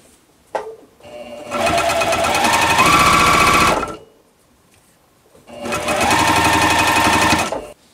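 A sewing machine stitches chain-pieced quilt blocks in two loud, steady runs of rapid mechanical whirring, each a few seconds long, separated by a brief pause, very close.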